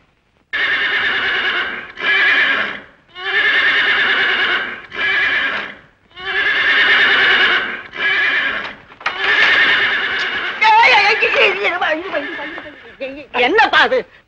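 A horse neighs and whinnies in long, loud repeated calls with brief gaps, and the clip-clop of hooves is faintly audible alongside. Toward the end the neighs break into shorter, rougher snorts.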